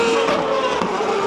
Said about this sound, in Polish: A teraz jedzie nasza Praga.